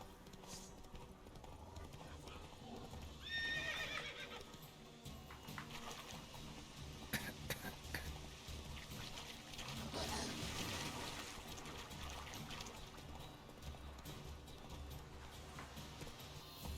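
Horse hooves clip-clop at a steady walk in The Witcher 3: Wild Hunt, with a brief neigh early on, all quiet and set among game ambience and low talk.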